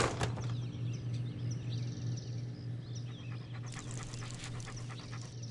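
Dog panting in the Postal 2 video game, rapid breathy huffs continuing over a steady low hum, with faint bird-like chirps and brief clatter in the background.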